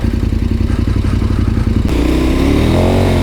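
A big motorcycle engine out on a ride on a wet, slippery road, loud and close, with a throbbing pulse shifting into a rising, revving drone partway through, no talking.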